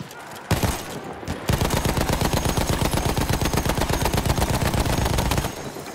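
Machine gun fire in Battlefield 1, a sustained rapid burst of evenly spaced shots lasting about four seconds after a couple of brief opening rounds, loud and close.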